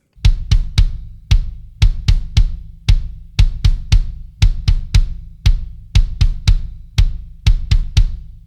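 Slow drum-kit groove with a bass drum foot pattern and steady eighth notes on the right foot under tom and cymbal strikes, close and loud in an even, spaced rhythm with no voices.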